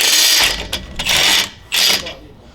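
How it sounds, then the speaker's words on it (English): A power impact tool spins off the lower U-bolt nuts on a 2019 Toyota Tacoma leaf spring, three loud close rattling bursts, each under a second, separated by short gaps. "So we're gonna take off the nuts off the bottom of the U-bolts."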